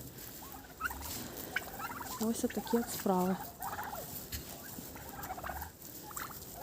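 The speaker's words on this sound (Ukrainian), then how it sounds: "Ось індики." Several turkeys gobble in quick warbling bursts, one call especially loud and close, over an outdoor background; a person speaks briefly.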